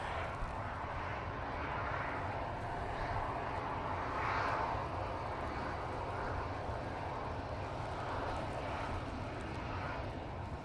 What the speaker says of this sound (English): Aer Lingus, going back to Dublin. Gonna take full length.